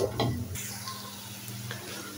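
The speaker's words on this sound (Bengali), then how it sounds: "পেঁয়াজটা কিন্তু ভাজা ভাজা হয়ে গেছে" Onions sizzle and fry in a pan while red amaranth greens are cooked, with a brief stirring clatter near the start, then a steady close hiss continuing throughout.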